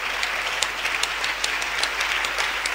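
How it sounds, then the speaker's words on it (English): Congregation clapping hands at a prophetic church gathering in Koforidua, Ghana: continuous loud applause with sharper individual claps popping out irregularly above the steady patter. "Oh, clap your hand for Jesus."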